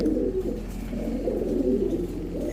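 Desi Bombay pigeons coo in low, repeated throaty rolls, close and clear over a steady low hum, with no talking.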